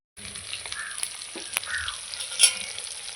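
Stingray (shankar) fish pieces frying in a pan give a close, even sizzle of hot oil, broken by a few spatula scrapes and sharp pops, one louder burst near the end.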